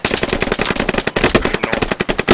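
Dense, rapid automatic gunfire in the military shooter game Squad, loud bursts and single cracks overlapping without pause, close and continuous through the whole stretch with no voices.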